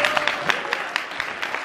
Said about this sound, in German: Großes Applaus für ihr selbst.